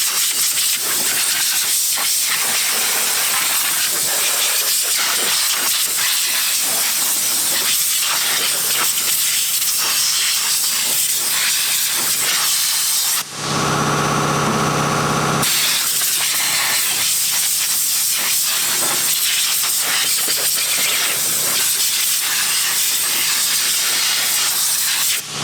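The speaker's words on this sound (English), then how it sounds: "Now the noisy compressor's stopped." A compressed-air blast cleans the engine area of a Toyota diesel, with a steady broadband hiss and rush of air running loudly throughout, briefly interrupted by a short lower, tonal burst near the middle.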